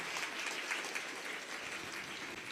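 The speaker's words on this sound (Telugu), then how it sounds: "చప్పట్లు కొట్టండి." An audience claps at a felicitation ceremony honouring a priest. The dense, even applause runs continuously at a steady, moderate level with no break.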